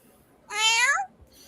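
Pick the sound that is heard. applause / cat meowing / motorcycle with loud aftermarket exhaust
cat meowing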